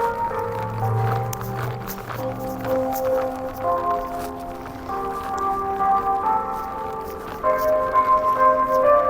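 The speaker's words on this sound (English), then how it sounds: "bells are ringing." Church bells ring continuously at a moderate distance, their layered tones overlapping against faint outdoor background noise.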